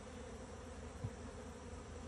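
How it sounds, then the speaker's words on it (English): Honeybees swarm around banana tree leaves, a steady close buzzing drone that holds evenly throughout with one small bump near the middle. "Maybe these bees are looking for the honey, just can't find it."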